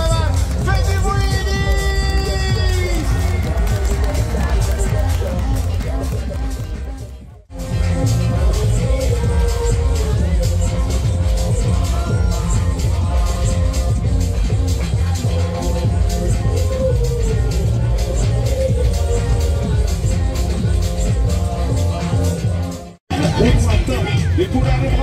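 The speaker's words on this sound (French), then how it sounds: "je vous demande toutes et tous d'applaudir le maximum afin que Nice résonne de vos encouragements" Big outdoor crowd at the Nice Carnival flower parade cheering and clapping, a dense continuous roar with loud music and festive noise mixed in, broken by two brief dropouts.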